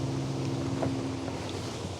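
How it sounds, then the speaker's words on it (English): Steady wind blowing outdoors at a beekeeping site where honey is being harvested, a broad continuous rushing roar with a low hum underneath, fairly loud and unbroken throughout, no voices. "the wind has picked up a little bit"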